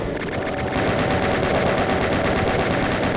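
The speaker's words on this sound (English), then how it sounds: "I do want to take my chain gun out" A chain gun in Doom 2 fires continuously, a fast, loud, even rattle of rapid shots that runs unbroken with no talk.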